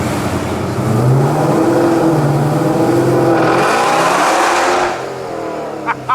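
A 1200hp Jeep Trackhawk SUV pulls hard with a loud, close engine roar rising steadily for several seconds before easing off near the end.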